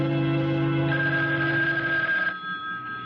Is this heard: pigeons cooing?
no